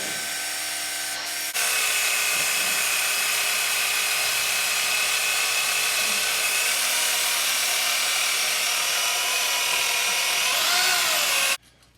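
A power tool spins a plumbing brush welded to a rod inside a rusty Caterpillar 60 pushrod tube, a loud, steady whirring drone that starts abruptly after a brief lower hum and cuts off sharply near the end.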